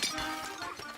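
A Pikmin shattering in the Pikmin 4 game trailer, a brief bright glassy crash and tinkling break heard close, lasting about a second.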